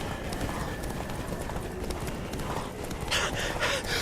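Roach the horse in The Witcher 3 video game, hooves clip-clopping steadily over a dense rumbling backdrop of game ambience, close and prominent, with brighter rattling hits near the end.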